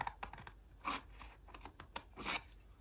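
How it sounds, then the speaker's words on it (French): Scissors cutting material at an angle for a fridge notebook holder, a quick run of close, crisp snips and crunches with short pauses between cuts. "donc je vais simplement le couper en biais"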